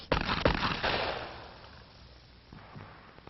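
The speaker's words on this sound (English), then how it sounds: "Another ready gun position is fired from the hip." A handgun fires from the hip in a close, sharp report at the start, with a second crack just after and a fading echo that trails off.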